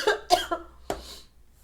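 A person coughs in three sharp, close bursts, two near the start and a final one about a second in, with the last trailing off into quiet. The coughs are loud and dry, with no other sound around them.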